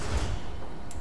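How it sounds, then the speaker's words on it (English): Personal sentry doors open in the Fallout New Vegas Lonesome Road bunker, a heavy low mechanical rumble and thud of sliding metal doors up close, ending with a brief hiss, with no talking. "Open personal sentry doors."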